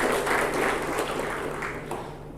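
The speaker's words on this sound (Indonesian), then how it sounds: "Tepuk tangan buat Ibu Kepala BPS." An audience applauds at an Indonesian government event with a minister present, a dense clatter of many hands fading slightly over a couple of seconds.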